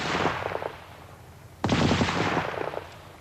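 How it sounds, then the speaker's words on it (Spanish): A Vickers Medium machine gun fires two loud, close bursts of rapid shots, the first short and the second longer after a brief pause, each crack echoing with a sharp onset. "la ametralladora Vickers Medium"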